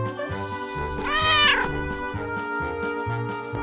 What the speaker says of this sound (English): Gato, cat, gato,